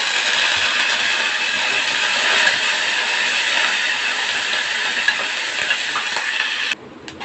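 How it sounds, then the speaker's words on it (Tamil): Peanuts and a handful of curry leaves fry in hot oil for tempering, a loud, dense, steady sizzle that continues without pause for almost seven seconds, then stops abruptly. "வேர்க்கடலை கடலப்பருப்புலாம் பொரிஞ்ச பிறகு ஒரு கை கருவேப்பிலை."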